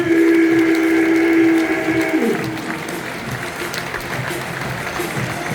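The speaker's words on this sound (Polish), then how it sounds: "A ja teraz poproszę o duże, duże brawa Adam Małosz, Maciej Jabłowski!" A crowd at the Red Bull Speed Ways event in Wrocław applauds Adam Małysz and Maciej Janowski, steady loud clapping and cheering that runs throughout, with a sustained tone fading out early on.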